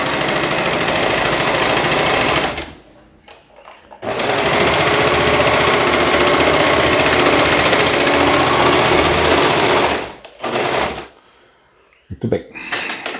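A sewing machine stitches fabric in loud, close, continuous runs of rapid needle chatter, stopping briefly twice with short pauses and a few handling clicks between bursts.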